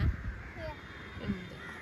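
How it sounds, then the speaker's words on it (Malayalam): Crows caw a few times at a distance while bathing outdoors, faint and brief against a quiet background. "ദേ കാക്കകൾ ഇതാ കുളിക്കുന്ന കണ്ടോ? അതാ കൊറേ കാക്കകൾ കുളിക്കുന്നതാ."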